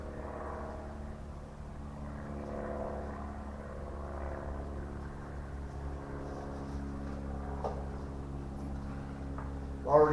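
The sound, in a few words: Dremel rotary tool with burr texturing African blackwood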